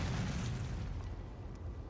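Artillery explosions during a siege in the video game Kingdom Come: Deliverance 2 make a loud, deep, rumbling boom that dominates and slowly fades over two seconds.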